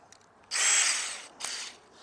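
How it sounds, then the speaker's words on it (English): A power drill fitted with a centering bit for hinge installation whirs in a short burst of about a second, then gives a brief second blip, loud and close, with no speech. "So if you take this and put it on your drill"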